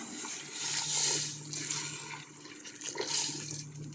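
Water running from a tap into a cooking pot holding chicken, a soft continuous splashing and trickling that rises and falls in a quiet kitchen, with no talk.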